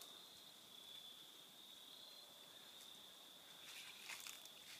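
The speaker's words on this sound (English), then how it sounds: "you can hear some birds and a lot of crickets." Crickets chirp in a continuous high, thin trill, faint and steady, in woods, with some soft rustling toward the end.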